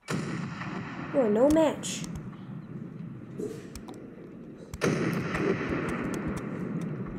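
Battleship guns boom in a ship crash physics video game, with heavy blasts near the start and again about two thirds through over a rumbling battle background, while a voice speaks briefly.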